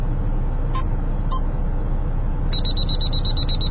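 Canon PowerShot S5 digital camera self-timer: two isolated electronic beeps, then a rapid, evenly spaced run of high beeps that keeps going to the end, close and clear over a low room hiss.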